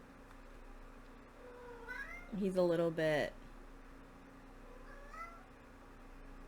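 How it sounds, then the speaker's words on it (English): A house cat meows and cries loudly at close range in a few drawn-out calls, with a person talking quietly before and after. "My cat's crying again."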